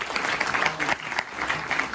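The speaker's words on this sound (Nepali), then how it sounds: "उहाँलाई जोड ताली." Audience applause for a speaker at a program, a dense burst of many hands clapping nearby, steady and lively for the whole stretch.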